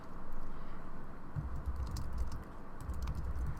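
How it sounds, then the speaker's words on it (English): Keys on a computer keyboard clatter in a quick, uneven burst of close taps over a soft background hum. "and I type something out"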